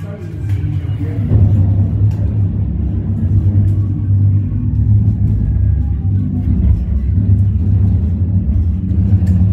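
A car's engine rumbles steadily through the enclosed space of a dark WW2 air raid shelter at an old RAF base in Cornwall, a deep continuous drone held at constant loudness throughout.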